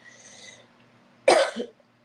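A single harsh cough bursts out close to the microphone, trailing into a shorter second hack, after a stretch of quiet hum.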